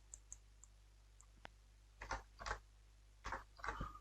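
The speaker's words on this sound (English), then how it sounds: "so I'll just type" Keystrokes on a computer keyboard, a few isolated clicks followed by short bursts of quick typing, faint and close over a low steady hum.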